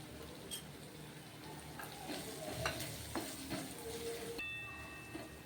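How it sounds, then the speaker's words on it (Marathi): A spoon stirs turmeric, coriander powder, cumin powder, black masala and green chili paste into a Vidarbha-style eggplant curry in a pan, with soft scraping strokes over a steady sizzle. "हे आपण आता यामध्ये मिक्स करून घेऊयात"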